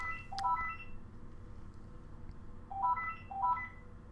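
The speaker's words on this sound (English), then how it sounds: "my phone is ringing" A mobile phone rings indoors during a Mass Effect game session: two short bursts of bright electronic ringtone notes, separated by a pause, heard close and clear over a low steady hum.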